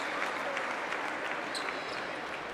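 Sustained crowd applause at a Liga Sudamericana basketball game between Malvin and Obras Sanitarias, as an injured player bleeding from the mouth leaves the court; dense, steady clapping fills the arena at an even level throughout, with no distinct voices standing out.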